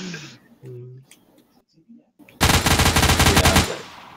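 Rapid automatic gunfire in the Project Confrontation video game, a loud sustained burst of over a second after a few quiet game sounds and brief voice chatter.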